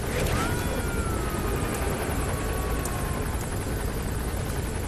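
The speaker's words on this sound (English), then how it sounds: "the helicopter didn't even notice" A helicopter flying in the video game Metal Gear Solid V: The Phantom Pain, in Angola-Zaire free roam, a steady loud rotor drone filling the whole stretch with a faint whistling engine whine on top.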